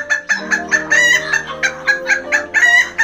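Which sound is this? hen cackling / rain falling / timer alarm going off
hen cackling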